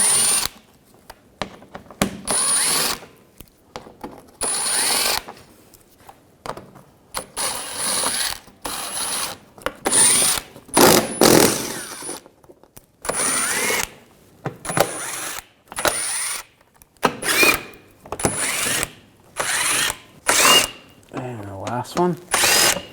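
Repeated short bursts of a power tool with an 8mm socket backing out bolts from the front underbody shield of a 2007-2013 BMW 328i, several whirring runs separated by pauses, close and loud with some clinks between.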